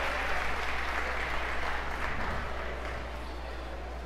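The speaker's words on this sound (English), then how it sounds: "gets a nice round of applause for the crowd" A crowd applauds an injured player rising to her feet at a girls' high school basketball game, Crystal City versus Herculaneum; moderate steady clapping in a gym over a constant low hum, tapering slightly at the end.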